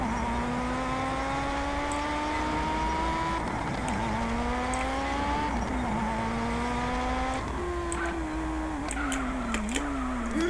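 Car in GTA San Andreas accelerating with a nitro boost: a loud engine whine climbing through several gear shifts, each rising then dropping, with brief tire squeals and clicks near the end, no talk.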